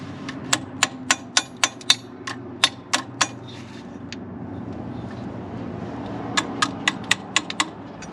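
A hammer strikes a water pump from an International 4x4 truck on a workbench, giving a run of sharp metallic blows in steady rhythm, then a pause, then another quicker series, close and clear over low background hum.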